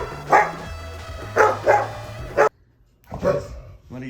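Pet dog acting as a morning wake-up alarm, barking and yipping in several close, loud bursts separated by pauses, with a short whimpering quality at the end.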